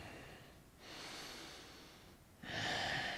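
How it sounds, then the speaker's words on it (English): Slow, controlled breaths drawn in and pushed out through the nose during balance poses for back pain, with two broad airy inhale-exhale swells, the second louder and closer, and no talking. "try to keep your breathing slow and in control."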